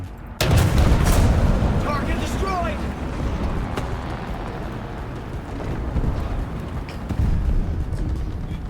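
Tank cannon fire in the video game War Thunder: a sharp, heavy boom opens the clip and another lands near its end, with rumbling game noise in between and a player talking throughout.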